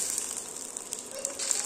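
Papad fries in a wok with oil running low, giving a soft, continuous crackling sizzle with scattered small pops, close and fairly quiet, with no voices.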